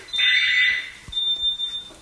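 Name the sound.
smoke alarm beeping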